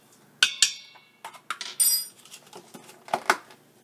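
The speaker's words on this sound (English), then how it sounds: "And then I just stir it all in there." A spoon clinks and scrapes against a bowl while ground flax seeds are stirred into a lentil-oat breakfast, a quiet, close series of sharp metallic taps and rattles in irregular bursts.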